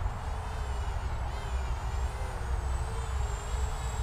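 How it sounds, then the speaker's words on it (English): A Full Speed Fighter 130 FPV quadcopter on dual-blade propellers flies in a steady, continuous drone, its high motor whine rising and dipping slightly with throttle against a dense broadband roar. "I like the sound that comes from the dual blade."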